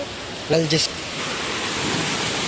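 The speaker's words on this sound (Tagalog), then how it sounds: "Ulan." Steady rain in Baguio City, Philippines, hisses across the whole clip as a broad, even wash of noise, briefly overlapped by a short spoken phrase near the start.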